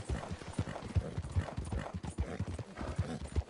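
Horse hooves clip-clop in a quick, uneven rhythm, close and steady throughout, with no talk over them.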